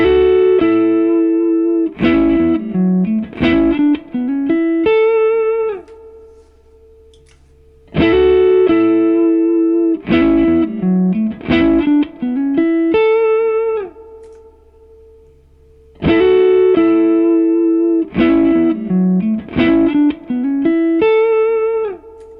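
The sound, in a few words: electric guitar loop played through overdrive pedal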